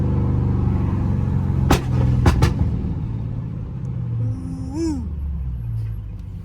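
Dodge Charger Scat Pack exhaust rumbling steadily in traffic, a loud continuous low drone with a few sharp pops and crackles partway through and a rising engine swell near the end.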